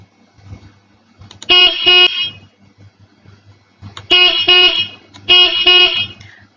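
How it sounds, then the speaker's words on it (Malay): Car horn honking in three loud bursts, the first a double toot and the later ones rapid repeated beeps, with quiet background between. "Dan juga bunyi horn kereta"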